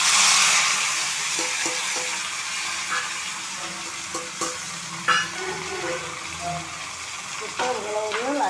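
Dried red chillies and curry leaves sizzle in oil over a lowered flame as a tempering for sambar, a close crackling fry with stirring knocks, and a voice is briefly heard near the end.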